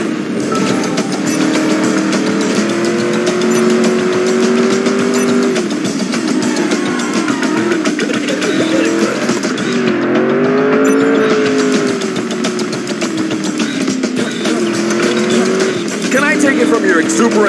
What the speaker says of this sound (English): I'm just gonna floor it, okay?